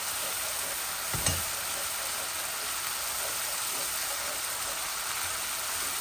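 Onion and spices frying in oil for a pabda fish curry with mustard paste, an even, steady sizzle broken by a single soft knock of a utensil early on.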